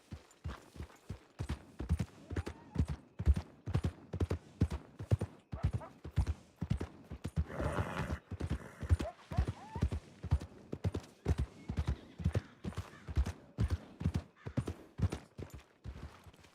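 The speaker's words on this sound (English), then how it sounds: "I don't know whose horse this is, but let's see if I can ride it." Horse hooves clip-clop steadily in a Western roleplay video game set in a fictional county, a brisk rhythmic stream of close, loud hoofbeats running throughout.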